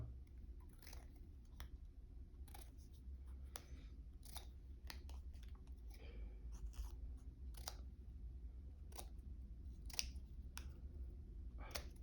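Hand trimming with scissors on a classic Big Block Dodge ammeter repair, a string of sharp, separate snips and clicks at an uneven pace, close and crisp over a steady low hum, no talking.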